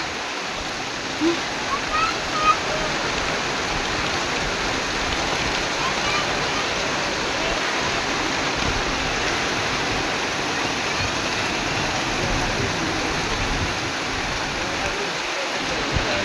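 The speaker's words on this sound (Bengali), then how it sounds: "কিরকম বৃষ্টি হচ্ছে দেখুন" Heavy rain pours down in a dense, unbroken roar that holds steady throughout.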